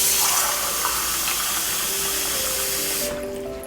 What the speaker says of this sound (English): I'm adding water as I need it. I'm using cold tap water.